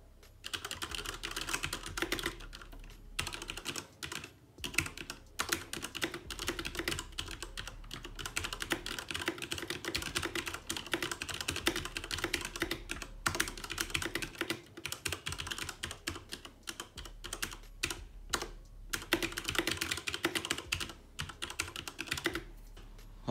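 Continuous clattery typing on an Asus Claymore mechanical keyboard, close-miked keystrokes rattling in quick bursts with a few short gaps, no talking.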